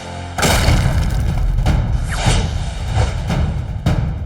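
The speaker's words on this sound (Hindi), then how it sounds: "ये तो बड़ा धमाकेदार योयो है।" Deep booming blasts from an explosive yo-yo in a cartoon go off in quick succession, five or six heavy thuds with rumbling tails, loud and close, without any speech.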